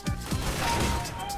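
A sharp burst of AWP sniper rifle fire in CS:GO opens the clip, followed by dense, noisy game sounds with a high ringing tone running underneath.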